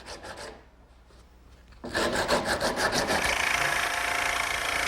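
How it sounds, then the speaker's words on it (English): Jigsaw and sanding on the pointed plywood bow of a small boat, a few rasping strokes, a quieter pause, then a loud continuous buzzing cut with a rapid pulsing rhythm, close up. "with my jigsaw, I'm going to round off the point of the bow and then sand it smooth."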